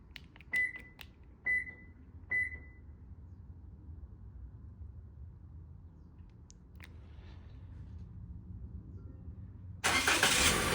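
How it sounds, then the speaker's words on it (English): A Toyota Corolla answers a factory key fob with a few short chirps near the start, then a quiet stretch of low hum before a loud, broad burst of the engine firing up near the end. "Let's go ahead and remote start it again."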